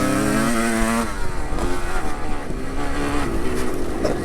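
The original Widow-Maker motorcycle rides on a track, its engine loud and close, revving with a rising whine that drops after a second into a rough, throbbing run.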